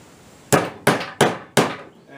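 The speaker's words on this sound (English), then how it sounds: "That's where the nail comes in. Grab that hammer." A hammer drives a nail through a metal cap on a workshop table in four sharp, loud, evenly spaced strikes, each ringing briefly before the next.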